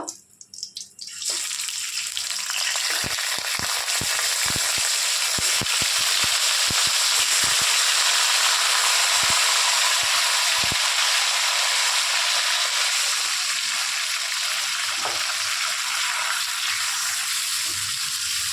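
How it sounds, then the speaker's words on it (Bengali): Meat frying in a pot with cinnamon, cardamom and cloves for gandharaj chicken, a steady close sizzle that holds for the whole stretch, broken by a few light clicks and knocks. "আর অল্প মাংসগুলোকে ভেজে নেব।"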